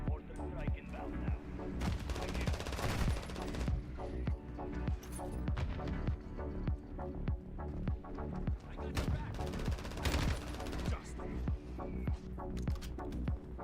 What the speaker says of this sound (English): Requesting fire mission. Target marked. Mortar strike inbound now.